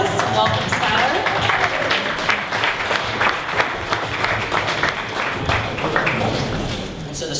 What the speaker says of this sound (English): So everyone please stand up and give a big round of applause.